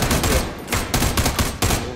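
Video game gunfire: rapid bursts of automatic fire, several volleys in quick succession separated by brief gaps, loud and close.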